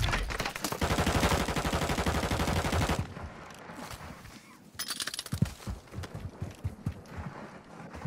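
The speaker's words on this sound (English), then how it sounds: "Oh shit, I'm getting shot from this way." Rapid automatic gunfire in Call of Duty Warzone on the Al Mazrah map, a dense continuous burst for about three seconds, then a lull and scattered sharper shots and impacts close by.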